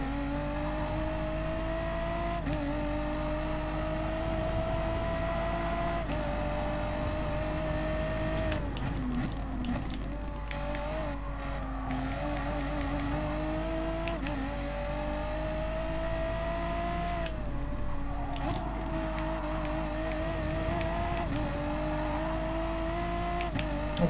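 Renault race car engine in Gran Turismo Sport circling Suzuka or Sardegna, a steady sustained drone with shifting pitch and brief gear-change dips, loud and continuous throughout with no talk.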